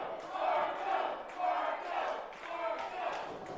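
Crowd at a live Pittsburgh wrestling show cheering and shouting in repeated loud swells, a dense roar of many voices rising and falling in waves, close and continuous throughout.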